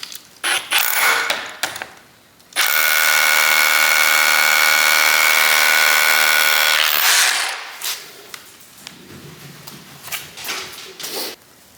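A Ryobi SDS rotary drill with a 4 amp-hour battery bores a 3/8 inch hole, giving a loud, steady grinding whine with a hard mechanical rattle for about four and a half seconds, then winding down into scattered knocks and scraping.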